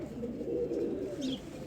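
A single low-flyer pigeon gives a short, low, rolling coo, close and clear, with a brief higher chirp near the end.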